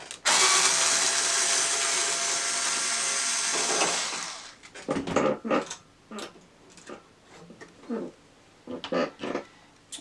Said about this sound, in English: As we take our cover screws out